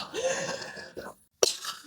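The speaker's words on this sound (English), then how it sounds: "we just had a little intermission of cough break there" A single sharp cough, close by, after a short stretch of quiet muffled voice and a brief silence.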